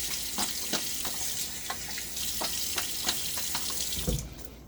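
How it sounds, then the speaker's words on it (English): Tap water runs steadily into a sink with intermittent splashes and clinks as a razor is rinsed under the stream, moderately close. "A little quick rinse."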